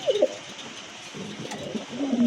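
Pigeons coo softly and repeatedly at close range inside a pigeon showroom, with low murmuring calls rising near the end over a faint background hiss.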